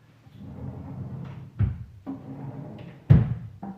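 A kitchen drawer slides shut twice with soft thuds, about a second and a half apart, amid low room noise.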